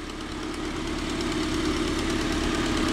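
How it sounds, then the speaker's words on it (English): Car engine idling with an exhaust leak, giving a steady, close, rough rumble with a ticking, knocking edge that holds evenly throughout and has no talk over it. "the exhaust leak's gotta get fixed though"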